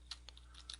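Typing on a computer keyboard, a handful of quick faint key clicks in a short burst, close and quiet, with no voices.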